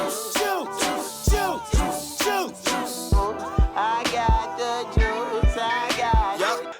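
A song from an album plays with a thumping beat and a soulful sampled vocal line, regular heavy low hits under the melody and no talking over it.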